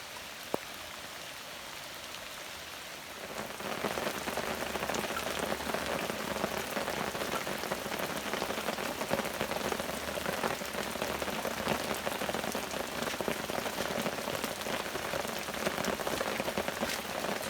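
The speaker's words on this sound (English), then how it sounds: "testing it like it's really going to be, like right now. Dumping rain." Heavy rain pours steadily outside a camper van during cold-weather van camping, a dense, continuous hiss of drops drumming on surfaces that starts suddenly after a quieter opening and stays loud and even throughout.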